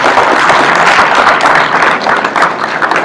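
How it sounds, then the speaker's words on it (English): An audience claps for a panelist at a conference panel, loud continuous applause throughout with a slight dip near the end. "Please give a round of applause for Stuart for this"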